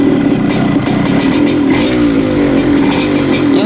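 A Yamaha DT motorcycle engine runs close by on a 3-wire CDI hookup, a loud steady two-stroke drone with a fast clattering pulse that holds without pause.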